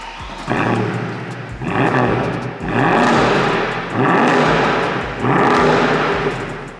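Mercedes-AMG C63 engine warm-started, firing with a loud roar and then rising and falling through several strong revs at close range, with short pauses between pulls.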